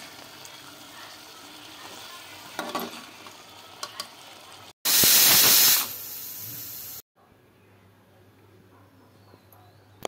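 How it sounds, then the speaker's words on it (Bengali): Onion and chilli fry inside a pressure cooker, a low sizzle with scraping stirs, then a loud bright burst of hissing spray for about two seconds before dropping to a quiet simmer. "প্রেশারের মধ্যে পেঁয়াজ লঙ্কা দিয়ে একটু কষে নিচ্ছি"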